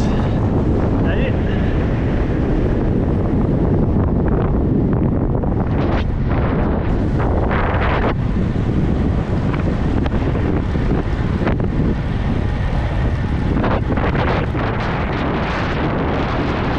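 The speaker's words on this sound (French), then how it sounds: "Il y a un peu de vent ici." Wind buffets the microphone during an ultra-distance cycling race, BikingMan AURA, on the way down toward the Rhône valley, making a loud, continuous roaring rumble that never lets up.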